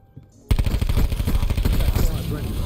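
Automatic weapon fire in the video game Call of Duty Black Ops 4: after a quiet half second, a fast, loud, continuous burst of rapid shots rattles on to the end of the clip.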